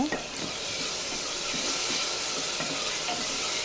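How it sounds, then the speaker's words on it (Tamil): Ginger garlic paste frying in a pan gives a close, continuous loud sizzle with faint scraping of a stirring spoon underneath, and no talk. "சேர்த்துட்டு நல்லா பச்சை ஸ்மெல் போகிற வரையே நல்லா வதக்கி எடுத்துக்கோங்க"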